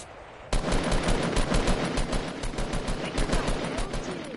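Automatic weapon fire in a PS4 shooter starts abruptly after a brief lull, then runs as a loud, close, rapid burst of evenly spaced shots that continues to the end.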